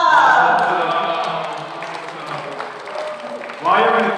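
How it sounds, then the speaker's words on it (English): A synagogue congregation applauds at a Shabbat service celebrating a B'not Mitzvah, a steady, full wash of many hands clapping that eases slightly, then swells again near the end. "While you're in the clapping mood"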